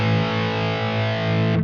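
Heavily distorted electric guitar played through the rhythm channel of a Neural DSP Quad Cortex, a thick sustained chord ringing loud and steady for over a second before being cut off abruptly.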